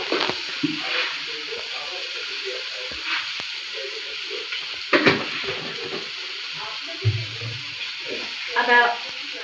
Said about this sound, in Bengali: কড়ার মধ্যে এবার একটু চিনি দিয়ে দেবো।